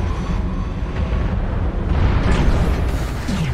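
A mech's torso blows apart in the MechWarrior Online game, a loud, dense rumbling explosion that roars continuously for several seconds with a heavy low-end boom and no speech over it.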